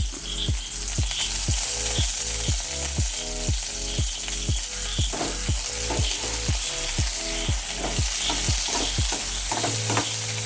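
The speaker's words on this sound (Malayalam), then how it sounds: "നമ്മൾ കറിവേപ്പില ഇടാൻ പോവുകയാണ്" Curry leaves crackling in hot oil in a home kitchen, a loud, continuous close sizzle broken by regular scraping stir strokes.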